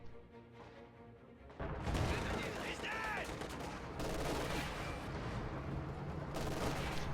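MG-42 machine gun fire in a WWII real-time strategy video game, with dense sustained bursts of gunfire and blasts that start abruptly and continue over a quieter game background.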